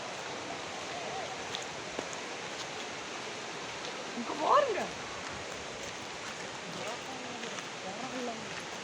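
A steady broad wash of rushing water from Siruvani Falls near Coimbatore fills the background, with a brief louder burst of noise midway and faint voices.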